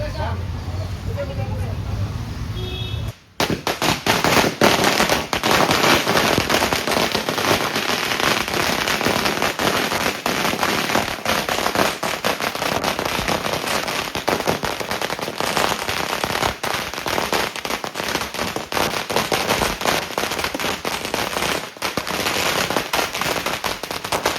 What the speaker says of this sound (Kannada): ನೋಡಿ, ಪಟಾಕಿ ತೆಗಿದವ್ರು ಆಚೆ ನಮ್ಮ ಮಾವ